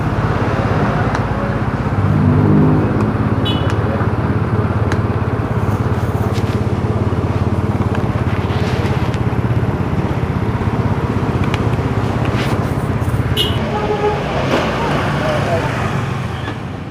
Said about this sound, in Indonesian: alhamdulillah motor sudah hidup, lampu-lampu sudah menyala semua